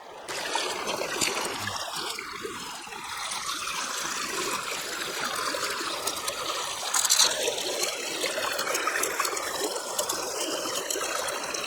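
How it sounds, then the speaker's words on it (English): Water trickling and flowing steadily through a river sluice used for gold panning outdoors, a continuous splashing stream at close range with no talk. "you can gauge how much water is flowing into the river sluice"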